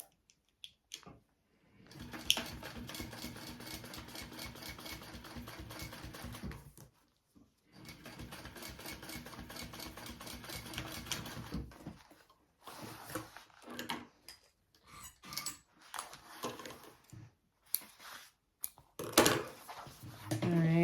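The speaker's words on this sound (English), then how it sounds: "I'm going to top stitch along the bottom at an 1/8 of an inch seam allowance" A sewing machine top stitches along the bottom of a laptop bag at an eighth-inch seam allowance. Two steady runs of stitching are separated by a pause, followed by short stop-start bursts and clicks, all fairly quiet.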